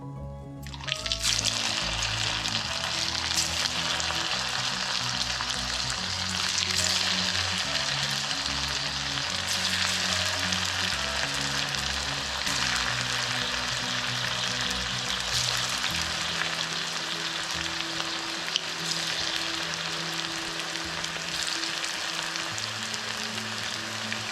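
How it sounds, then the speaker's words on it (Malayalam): Leftover idli pieces go into hot oil as an evening snack, setting off a loud, dense sizzle that bursts in abruptly and then roars on steadily, close and continuous, with no talk. "ഇനി നമുക്കിത് ചൂടായ എണ്ണയിലേക്ക് ഇട്ട് കൊടുക്കാം"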